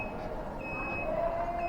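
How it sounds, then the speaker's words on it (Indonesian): Emergency buzzer on an industrial automation trainer in a school competency test, a steady electronic tone holding throughout over a constant mechanical hum, with a second higher tone joining partway. "maka mengakibatkan buzzer dan tombol emergensi akan menyala"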